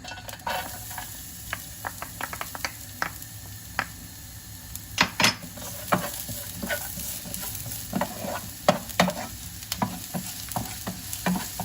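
Garlic fries in a spoonful of hot oil for an eggplant dish, a constant close sizzle broken by frequent sharp scrapes and clicks of a utensil stirring against the pan, no speech.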